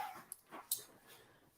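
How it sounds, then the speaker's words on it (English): A dog whimpers and lets out a few short yips and barks, faint and somewhat distant in a quiet room, with sharp brief peaks between softer whines. "My dog's going nuts."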